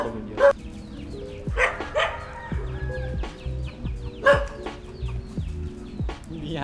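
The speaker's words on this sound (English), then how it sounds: "We're slowly getting chased away by dogs." Several dogs bark loudly and close by near a temple in Khon Kaen, in repeated irregular bursts, mixed with cluck-like fowl sounds and tonal background noise.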